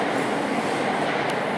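Steady, dense rumble of a passing train along Tokyo's Yamanote Line, loud and close, filling the whole moment with broadband roar and no voices.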